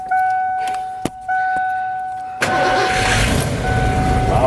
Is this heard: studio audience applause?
no